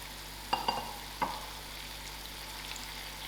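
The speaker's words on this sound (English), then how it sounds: "I'll give it a good stir." Lamb liver frying in a pan with masala, tomato and pepper, with a steady sizzle and a few sharp scrapes and knocks of a spoon as it is stirred.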